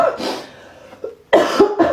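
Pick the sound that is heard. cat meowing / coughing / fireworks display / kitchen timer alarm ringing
coughing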